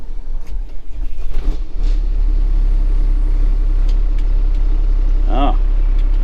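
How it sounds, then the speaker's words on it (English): A farm tractor's engine cranks and catches about two seconds in, then settles into a steady, loud low rumble at idle, with voices talking over the start. "Oh, engine start, look at that."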